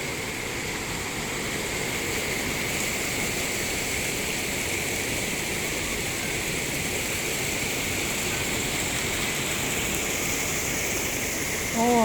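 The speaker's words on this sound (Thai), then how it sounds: "ตรงนู้นก็มีน้ำตก" Water pours at a Thai waterfall in Saraburi province, a steady, loud, broadband rush that holds constant throughout with no pauses.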